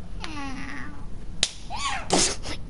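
A house cat lets out a couple of drawn-out, wavering meows close by, followed by a sharp slap and rustling.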